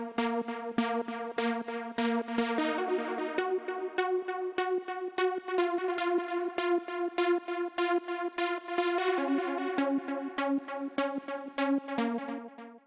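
A synth pluck built in Serum from a default waveform with six-voice unison and a filter-cutoff envelope plays a steady, bright melodic pattern of short repeated notes over sustained tones, loud and alone without any voices.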